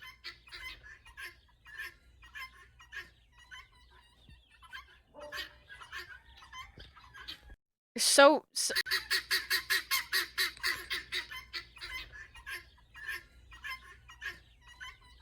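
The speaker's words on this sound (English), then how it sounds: "They are guinea fowl." Guinea fowl call nearby on a winter vacation, with scattered sharp chirps and then a loud burst of rapid, rhythmic grating cries that repeat steadily for several seconds. A single word is spoken briefly.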